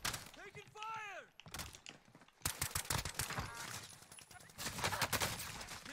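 Rapid gunfire in an online shooter game, clusters of shots crackling in bursts over the latter seconds, fairly quiet overall with a voice talking near the start.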